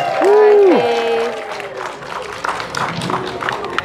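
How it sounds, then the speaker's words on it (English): A brief voice opens, then a small audience at a Disneyland Resort attraction breaks into moderate, scattered clapping that carries on at a steady, fairly close level to the end. "Round of applause for Faye."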